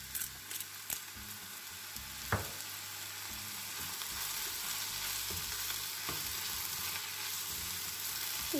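Onions sizzling in a frying pan for a fish and vegetable casserole, with scattered scrapes and clicks of stirring over a continuous quiet hiss, no talk.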